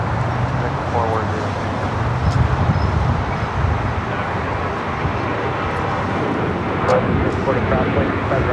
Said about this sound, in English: This is Alaska Airlines Flight 6 taking off to Washington Reagan